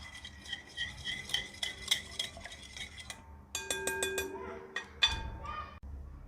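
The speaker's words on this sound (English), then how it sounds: "We'll just give this a whisk." Brownie batter whisked in a bowl, a quick rhythmic metal whisk scraping and clinking against the bowl sides, close and fairly clear, with a brief pause and some louder knocks partway through; no talking.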